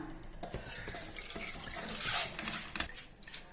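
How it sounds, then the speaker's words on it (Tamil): Water pours and splashes steadily as it drains from a container of soaked rice for making puttu, a close, continuous trickling rush. "இப்போ இந்த தண்ணியை நம்ம வடிகட்டிடலாம்."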